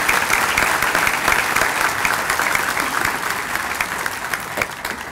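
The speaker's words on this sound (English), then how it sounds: "Please give these wonderful people a round of applause." Audience applause fills a university event hall after a call to honor the people on stage, steady dense clapping sustained throughout with no talk over it.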